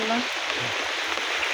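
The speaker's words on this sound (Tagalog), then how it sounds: "Kaya kusog ang ulan mga kaidol" Heavy rain pours steadily onto a surface during a fishing outing, a dense, even hiss that continues throughout while a voice speaks briefly over it.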